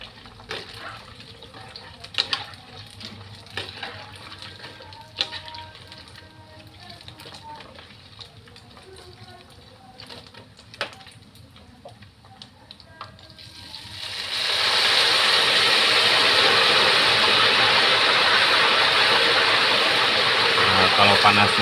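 Tofu batter hits hot oil in a small wok for crispy tofu, setting off a sudden loud, steady sizzle that swells in midway and holds bright and close, after quieter kitchen clatter and talk.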